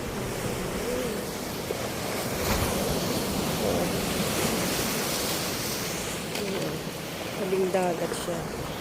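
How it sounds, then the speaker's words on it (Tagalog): Big ocean waves break on the beach at Baler, Aurora, as a constant roaring surf wash mixed with wind rumble, swelling slightly midway, with faint voices nearby. "Malaki ng alon eh."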